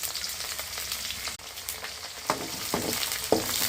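Garlic fries in hot sesame oil in an iron pan, giving a steady close sizzle with a few sharper crackles and stirring scrapes toward the end.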